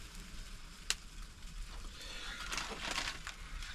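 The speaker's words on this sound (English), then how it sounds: "Right, our water is boiling, so let's get the noodles in." Stir-fried chicken noodles are dropped into a small cook pot of boiling water, giving a steady hissing, bubbling rush with a sharp clink near the start and no voices.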